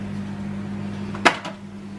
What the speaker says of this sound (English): We've got jacket potatoes in the microwave.